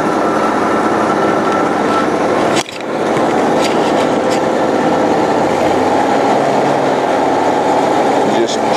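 Twin engines of a trailer-mounted hot and cold water sewer jetter run steadily after starting, a constant loud mechanical drone with a brief dip near the start, and someone talks over the noise.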